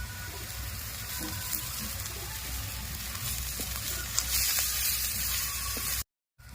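Crushed garlic is added to hot oil over onions and dried red chillies in a village kitchen, a steady, dense hiss of frying that holds without a break for about six seconds, close and without speech, then cuts off.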